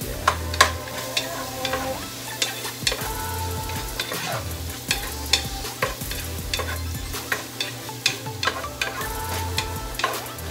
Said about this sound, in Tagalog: Medyo durugin nyo yung kamatis.